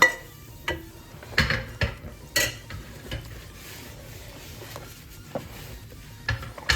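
A spoon stirs and mixes a seasoning into dosa batter in a bowl, Jaffna style, with irregular soft scrapes and clacks against the vessel, close and fairly quiet, separated by pauses.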